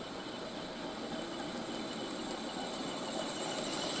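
A Hornby 9F model locomotive in 4mm scale, fitted with a Portescap motor, runs steadily while hauling a long train, giving a continuous, even whirring hum with a faint whine and no talk.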